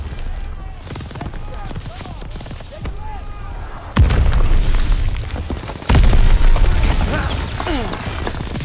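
Rapid bursts of gunfire and booming explosions from Call of Duty: WWII's D-Day mission crackle continuously, loud and close, with voices talking underneath.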